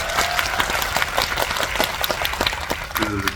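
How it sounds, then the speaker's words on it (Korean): An audience at a Korean film screening Q&A claps steadily as a dense patter, with a voice talking over it. "박수 부탁드립니다"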